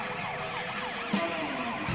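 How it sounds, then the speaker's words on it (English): Police car siren in a children's cartoon wails in fast repeating sweeps over a low engine hum, short and fairly prominent with no talking. "Turn on your siren and rush to the stadium"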